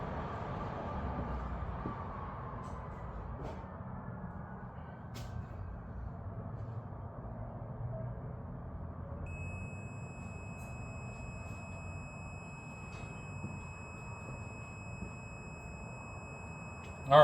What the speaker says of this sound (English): as you guys can hear that the meter is beeping, so we've got continuity there